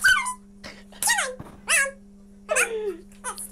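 A dog whimpers and whines in several short, high, falling bursts spread over a few seconds, close and fairly loud, over a steady low electrical hum.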